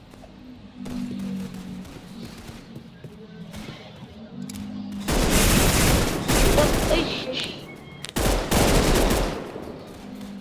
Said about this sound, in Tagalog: Lakas naman ng baril niya